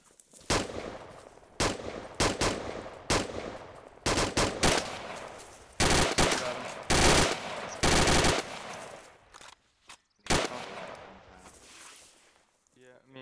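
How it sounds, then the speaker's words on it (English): Bursts of automatic gunfire from a player's gun in a public-server multiplayer shooter, loud, close and repeated in sharp volleys across the clip, with players talking over the shooting. "Oh, that's your gun."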